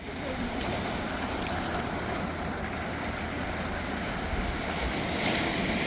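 Steady wash of ocean surf rolling in close by along a coastal trail, a continuous broad rush with wind buffeting the microphone throughout.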